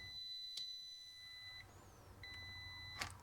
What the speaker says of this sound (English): So it beeps in both directions, which means that diode is shorted